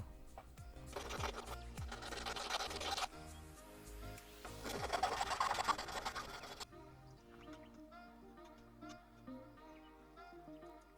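A scrap gold ring is cut through at its crushed section, making two harsh buzzing bursts of a small cutting tool biting metal, close by, followed by quieter workshop clicks.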